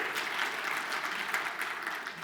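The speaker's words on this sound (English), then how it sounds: "let's give him a very warm round of applause" A conference audience gives steady, warm applause for a speaker at a talk on next-generation gaming, a dense wash of many hands clapping together throughout with no speech over it.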